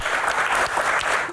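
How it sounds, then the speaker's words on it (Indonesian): A crowd claps in a dense burst of applause that holds steady, then trails off at the end. "Tepuk tangan dong buat Densu."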